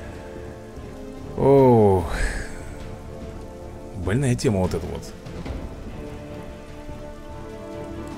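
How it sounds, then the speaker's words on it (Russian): Rain falling steadily in the Teenage Mutant Ninja Turtles: Legends video game, a soft continuous hiss of drops running beneath a man's speech and game sounds. "Шум дождя успокаивает мои нервы"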